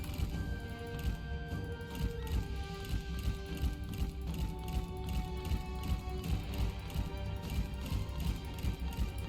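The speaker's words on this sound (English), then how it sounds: "Okay, that's a lot of cavalry." Massed cavalry horses gallop across the battlefield in the strategy game Total War: Three Kingdoms, a steady rolling drum of many hooves under sustained in-game music and battle noise, fairly close and continuous.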